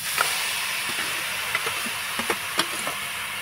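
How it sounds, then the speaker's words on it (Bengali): Grated papaya fries in ghee in a pan with a steady, close hiss and sizzle, broken by small scattered crackles and spoon scrapes. "ঘিয়ের সঙ্গে একটু নাড়াচাড়া করে ভেজে নিতে হবে।"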